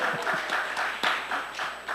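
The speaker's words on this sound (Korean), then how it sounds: "박수 한번 쳐주세요" A church congregation at a Sunday service claps in a short, moderately loud burst of applause, with a few distinct hand claps standing out over the roomy wash.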